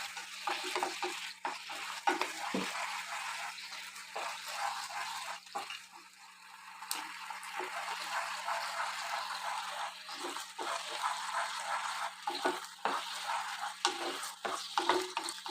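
Boiled potato is roasted down in a pan for payasam, a quiet, close cooking sizzle broken by repeated scraping stirs and clinks of a spoon, with no one speaking.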